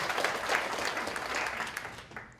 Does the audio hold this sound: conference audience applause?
yes